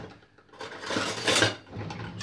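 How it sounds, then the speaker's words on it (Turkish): Chicken wings turned over with metal tongs in a hot frying pan, a short burst of scraping and clinking metal-on-pan contact, close and fairly loud, with no talking. "Şöyle maşamla şöyle bir alt üst ediyorum tekrar."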